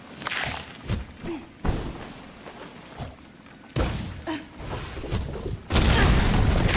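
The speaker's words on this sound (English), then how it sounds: "That was a kind of big explosion." A big explosion in Hollow Knight Silksong, heard as several heavy thuds and booms in irregular bursts, ending in a loud, sustained roaring blast.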